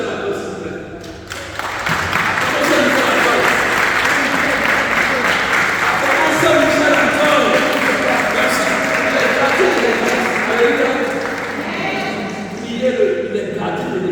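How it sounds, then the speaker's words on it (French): A church congregation applauds steadily to acclaim Saint Michael the Archangel, loud sustained clapping from many hands that swells in and keeps going for the whole stretch before easing slightly near the end. "On peut acclamer Saint-Michel-Archange, s'il vous plaît."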